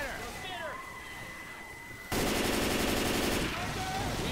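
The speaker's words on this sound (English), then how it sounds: "Ooh, fireworks." Rapid crackling bursts of fireworks in Left 4 Dead erupt suddenly and continue loudly, following a quieter stretch of background game noise.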